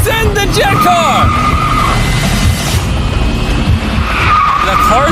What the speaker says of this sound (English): 3, 2, 1, send the jet car!